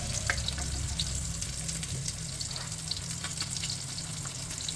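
Fish sizzles in hot oil in a pan, a continuous close crackling hiss with scattered spits and pops, with no voices over it.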